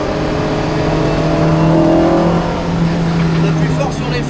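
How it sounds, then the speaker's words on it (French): The engine of a Lotus Exige S1 roars steadily under acceleration, its pitch climbing gradually from inside the car while someone talks over it. "ça s'accélère à 6000 tours là jusqu'à 8000."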